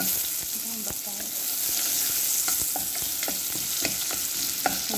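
Oil and a little butter sizzle hard in a pan for shorba, a loud constant hiss near the mic broken by small crackles and the scrape of stirring.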